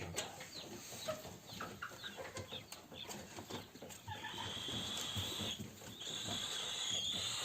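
A Spanish (İspenç) rooster crows in a mixed backyard flock, its call rising over steady outdoor noise at a moderate distance, with no talking.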